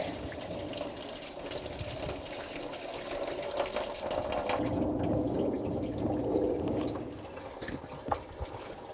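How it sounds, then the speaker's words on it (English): Residual coolant drains in a steady pour from the lower radiator hose of a 1997-2004 Dodge Dakota engine into a bucket during water pump replacement, a continuous close splashing trickle heard alone. "I'm just going to take my lower hose right off and catch the residual coolant that's stuck in the block."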